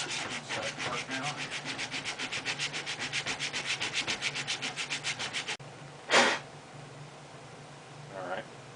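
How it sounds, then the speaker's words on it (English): Coarse sandpaper scrubs a metal radiator in quick, rhythmic back-and-forth strokes, a steady rasping that stops, then a sharp sniff and a brief scrape follow. "coarse sandpaper. It's just stuff to kind of bust up the surface and get it nice and shiny."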